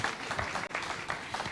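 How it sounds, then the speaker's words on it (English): An audience at an evening national dialogue forum applauds as the chairperson is welcomed to give closing remarks, a steady dense clapping that fills the clip with one brief dip midway. "Let's welcome her to a round of applause."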